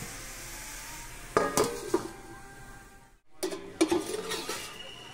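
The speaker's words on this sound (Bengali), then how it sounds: "এবার আমি থাল দিয়ে ঢেকে দেব।" A plate set over a cooking pan of bottle gourd and spices, two clattering metal-and-ceramic contacts a couple of seconds apart, each with a short ringing knock over faint kitchen background.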